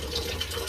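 Water from a municipal drinking-water supply pipe runs in a steady, faint hiss that trickles and splashes briefly, with no voices over it.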